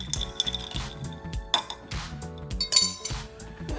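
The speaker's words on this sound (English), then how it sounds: "I'll actually go ahead and put another ice cube in there too, I think. And then actually I'm gonna give this a quick little stir in here." Ice cubes clink and rattle against a glass as a drink is stirred, with quick repeated bright chinks in an uneven rhythm, close and fairly loud, with no voices.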